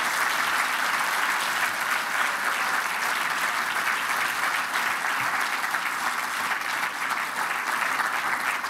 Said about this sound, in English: A huge round of applause to these extraordinary champions of conservation.